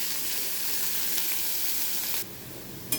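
Chopped onion frying in hot oil for a rohu fish curry with potato and pointed gourd, a steady close hissing sizzle that drops slightly in level near the end.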